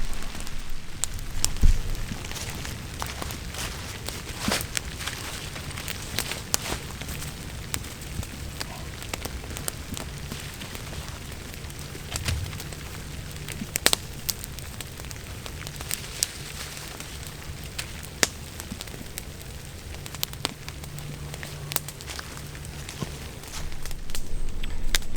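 Steady rain patters onto a crackling campfire outdoors, a dense continuous hiss with occasional sharp pops and snaps throughout, fairly close and without speech.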